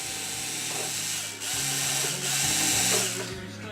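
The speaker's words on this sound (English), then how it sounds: "now I'm going to go ahead and thread my other two servo screws in" Servo screws are driven into wood with a ratcheting screwdriver for a revolver ARF model build, a close, continuous clicking ratchet in three bursts with brief pauses between them.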